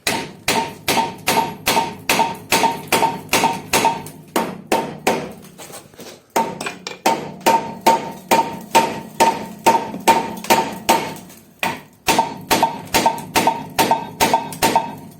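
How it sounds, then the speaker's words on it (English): Steady, forceful hammer blows ring out on an Opel Astra G hub bearing in rapid rhythmic bursts, with two short pauses, close and loud. "stop the video because it's too much hammering"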